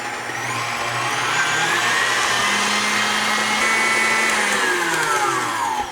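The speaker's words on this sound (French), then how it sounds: "On va commencer par fouetter notre crème." Electric mixer whipping cream in a kitchen, a loud, steady whirring motor hum that holds for several seconds with slight shifts in pitch.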